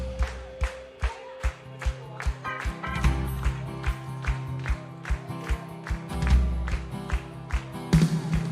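A church congregation clapping in a steady rhythmic beat, about two claps per second, loud and near over sustained music, with a voice briefly audible.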